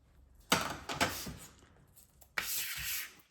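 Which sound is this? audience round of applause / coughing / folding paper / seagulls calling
folding paper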